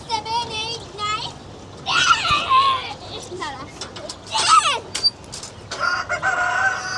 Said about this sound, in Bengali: দেখেন আমাদের মুরগিগুলো বের হয়ে যাচ্ছে